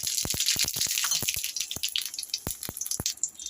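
Water poured into a perforated colander in a kitchen sink, splashing and draining in a rapid patter of irregular drips and trickles, close and fairly loud.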